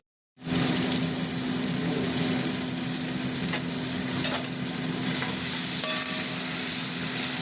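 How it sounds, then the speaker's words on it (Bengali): Onions sizzle steadily in a hot pan on a kitchen stove, a loud, close, continuous crackle that starts abruptly and holds even throughout with faint stirring clicks and no voices. "পেঁয়াজটা একটু ভাজা ভাজা হোক"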